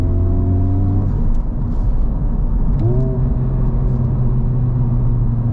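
A car engine idles and hums steadily up close, low and rumbling, with a brief shift in pitch partway through as it revs slightly.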